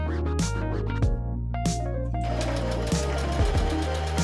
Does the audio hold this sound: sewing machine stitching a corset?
yes